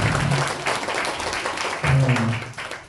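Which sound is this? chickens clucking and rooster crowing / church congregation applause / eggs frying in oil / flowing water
church congregation applause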